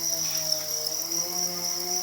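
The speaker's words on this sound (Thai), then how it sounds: "ฟาร์มจิ้งหรีด" Crickets chirp densely at a cricket farm, a continuous shrill high trill from many insects packed close together.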